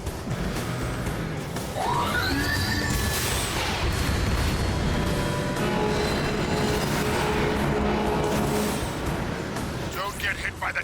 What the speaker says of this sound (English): get hit by the train, you fool!